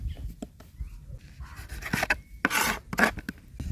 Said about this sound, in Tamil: தக்காளி வெட்டும் போதே இது மாதிரி பொடி பொடியாக வெட்டி எடுத்துக்கலாம்.